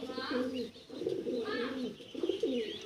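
A large chocolate dom pigeon coos in repeated rounded phrases close by, with some faint background noise between the calls.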